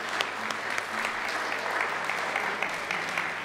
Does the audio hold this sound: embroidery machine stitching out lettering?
no